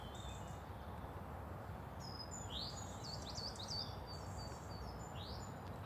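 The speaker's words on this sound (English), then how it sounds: "The most sweet and gorgeous bird song this morning." Sweet birdsong on a January morning: several bright chirps and trilling calls, some near and some farther off, rising over a steady soft background hiss with no talking.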